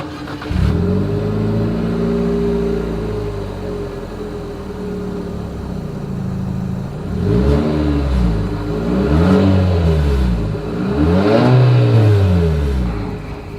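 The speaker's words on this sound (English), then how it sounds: "As always, here is that exhaust clip." A 2023 Infiniti QX55 SUV engine revs hard several times, deep exhaust roar rising and falling in three surging bursts over a steady idle rumble, close and loud.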